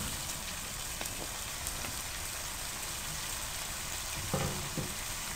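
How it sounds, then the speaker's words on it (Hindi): Okra fries in a hot pan with a steady, even crackling sizzle at moderate volume. A few faint clinks come near the end, and no one speaks. "भिंडियों को आपने तकरीबन 2 मिनट फ्राई करना है"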